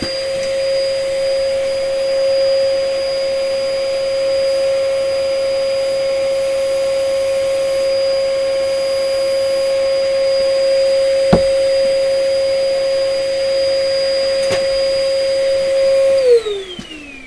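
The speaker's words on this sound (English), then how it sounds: "I'm going to start the extraction up. So there's going to be a little bit of noise, and hopefully it's going to suck all the overspray down the extraction." A spray booth extraction fan runs steadily with a constant whine and airy rush as it draws paint overspray, holding an even level throughout before spinning down near the end, with a brief sharp knock partway through.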